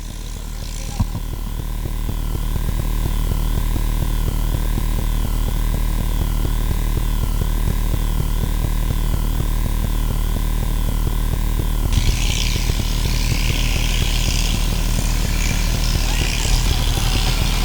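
A tractor engine runs steadily at a tractor disc-ploughing competition, a loud continuous mechanical drone with a high whine, nearby and sustained throughout, with crowd or announcer voice mixed faintly underneath.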